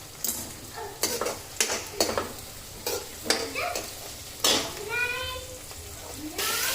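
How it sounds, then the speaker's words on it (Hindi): Garlic, onion and green chilli fry gently on low heat, a quiet sizzle punctuated by repeated utensil clinks and scrapes against the pan, with brief voices in the background. "इसको भून रही हूँ धीमी आंच पे, हल्का सा ब्राउन हो जाए"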